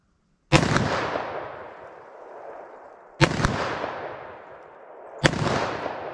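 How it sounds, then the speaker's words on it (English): A .357 Magnum snub-nose revolver fires three loud, sharp shots at an outdoor range, aimed at a target 40 yards away, spaced a few seconds apart. Each crack trails off in a long, echoing decay. "357 mag from 40 yards, snub nose. See if I can make any hits with this."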